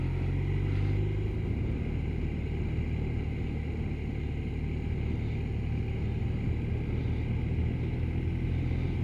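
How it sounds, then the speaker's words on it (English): Motorcycles ride past a roadside pub on Windy Hill in Queensland's Atherton Tablelands, a steady low engine rumble that holds for the whole stretch without clear peaks, heard from a distance with no talk. "A few bikes about today."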